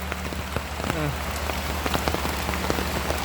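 Steady rain patters on surfaces outdoors while puffball mushrooms are gathered in the countryside of Yasothon, a continuous dense hiss with scattered sharper drops and no talk.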